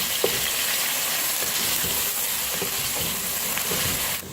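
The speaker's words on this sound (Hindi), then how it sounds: "लहसुन अदरक का पेस्ट डालेंगे। थोड़ा सा फ्राई करेंगे इसके साथ।" Onion frying with garlic ginger paste in a pan for kaddu chana dal sabzi, a continuous close sizzle and hiss with faint stirring ticks, steady and moderately loud, no voices.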